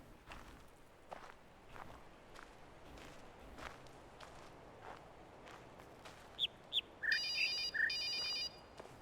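Telephone ringing in The Witness video game, a bright electronic trill heard briefly near the end after soft footsteps crossing quiet ambience.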